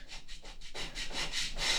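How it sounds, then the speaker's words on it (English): Rhythmic rubbing strokes, quick back-and-forth scrapes like sandpaper on wood, growing a little louder and harsher midway. "Oh yeah, I forgot, I'll be sanding these"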